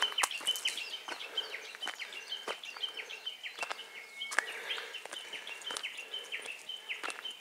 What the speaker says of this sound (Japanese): ウグイスか、これ。